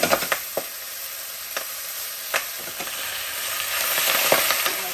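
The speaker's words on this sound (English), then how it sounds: "I'm going to go ahead and saute these greens" Leafy greens sauté in a hot pan, a steady bright sizzle with scattered sharp pops and stirring clicks that grows a little denser toward the end, with no talking.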